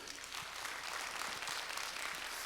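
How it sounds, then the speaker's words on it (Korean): A church congregation at a special early-morning revival service claps together, a dense, fairly distant wash of applause held steadily throughout with a faint voice beneath. "우리 좋으신 하나님께 한번 큰 박수로"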